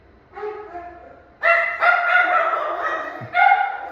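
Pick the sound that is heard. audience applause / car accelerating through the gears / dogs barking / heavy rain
dogs barking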